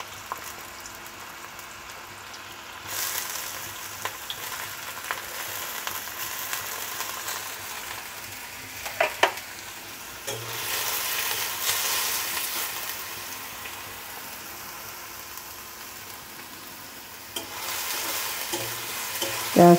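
Chopped onions hit hot oil and sizzle loudly, a bright steady frying hiss that swells and settles, with occasional stirring scrapes and clinks of a spoon in the pan, no voices.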